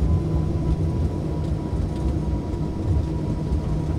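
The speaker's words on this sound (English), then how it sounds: "arm the reversers. There they go." Jet airliner thrust reversers deploying after landing in X-Plane 10, a steady loud roar of engine noise with rumbling low end and a faint tonal hum, continuous and close throughout.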